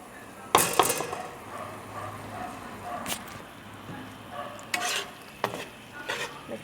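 Shrimp with powdered seasonings stirred in a sizzling frying pan: a steady fry hiss beneath sharp clinks and scrapes of a utensil against the pan, close and fairly loud, with no talking.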